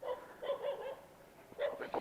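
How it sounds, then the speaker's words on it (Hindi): A dog barks in several short, moderately distant bursts, with a pause in the middle and a quicker pair of barks toward the end; no one speaks. "कुत्ता क्यों भौंक रहा है?"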